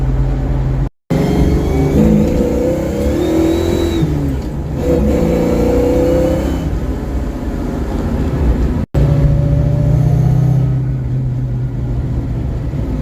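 A lowered car with reworked rear suspension drives and corners, its engine droning and revving steadily throughout with no voices, briefly cutting out twice.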